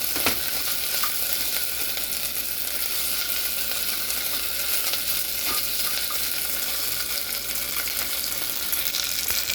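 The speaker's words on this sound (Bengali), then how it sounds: "এখন সেটাকে মাংস দিয়ে ফ্রাই করে ফেলবো" Leftover pulao being fried with beef in a pan: a loud, steady sizzle and crackle runs unbroken for the whole stretch, close up and without voices.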